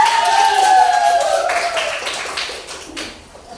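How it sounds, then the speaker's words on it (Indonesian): An audience in a classroom-style gathering claps briefly while a sustained tonal voice or sound fades underneath, and the scattered claps thin out toward the end. "Beri tepuk tangan lagi dong"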